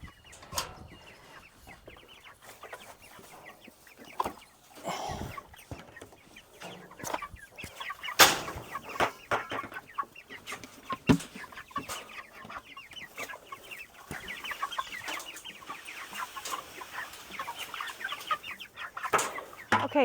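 Cornish cross chickens cluck steadily in a farm coop, a busy overlapping chorus of short clucks and squawks that runs without a break, fairly close and moderately loud, with no talking.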